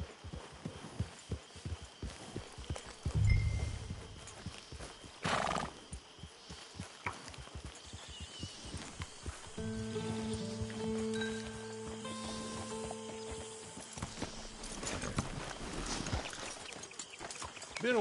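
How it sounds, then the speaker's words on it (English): Horse hooves clip-clopping in the Red Dead Redemption 2 video game, a steady rhythmic patter of steps with a loud thump near the start, mixed with game music and ambient sound. "Get your horse."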